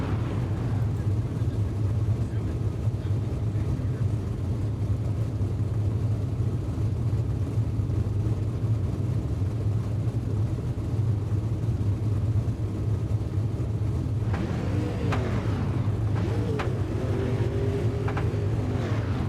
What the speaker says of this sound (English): The car is about to pull off pit road at Eldora.